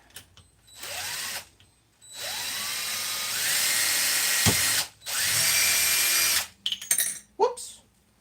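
A power drill running with an old, somewhat broken drill bit at a workbench, whirring in several bursts that rise in pitch as it spins up, with short pauses and clicks between runs.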